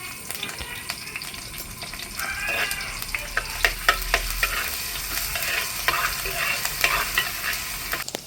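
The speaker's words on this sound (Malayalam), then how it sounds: "വെളിച്ചെണ്ണ ചൂടായി കഴിഞ്ഞാൽ അതിലോട്ട് ഇഞ്ചി ഇടണം." Ginger and garlic frying in hot coconut oil for a crushed-chili fish curry, a steady sizzle with sharp crackles and pops and the scrape of stirring, fairly close, with no voices.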